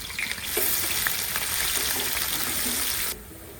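Onions sizzle loudly as they hit hot oil with cumin seeds for a beef khichuri, a dense crackling hiss that swells after a quiet start, holds steady, then cuts off abruptly near the end.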